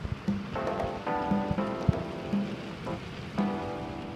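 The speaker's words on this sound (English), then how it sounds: "it was been pouring all night" Rain drums on the roof of a camper van during a night-long rainstorm, a soft steady patter with irregular louder drips and tapping.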